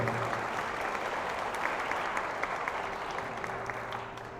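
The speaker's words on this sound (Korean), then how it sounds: "좋은 말씀해주신 아버님께 다시 한번 박수 부탁드리겠습니다." Wedding guests at a ceremony hall applaud steadily in a dense, even patter of many hands, moderately loud and continuous, easing slightly toward the end.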